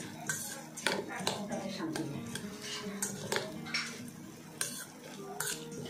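Cutlery and dishes clink in irregular, close taps, with soft stirring and a spoon scraping against a plate while someone eats at home.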